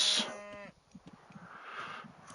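Cattle in Age of Mythology let out a loud, drawn-out moo that lasts about half a second, then faint scattered clicks and low game ambience follow.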